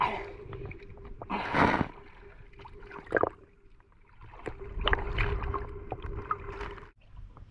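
Oars splash and paddle a small bangka boat through water in irregular strokes, with gurgling and a low steady hum, fairly close and moderately quiet.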